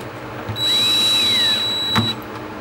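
A power drill pre-drilling a door for a lock install whines steadily for about a second and a half, its pitch rising then settling, followed by a brief clunk as it stops.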